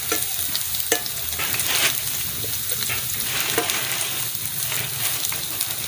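Garlic frying in hot oil makes a dense, continuous crackling sizzle, close and fairly loud, with stirring scrapes now and then and no voices.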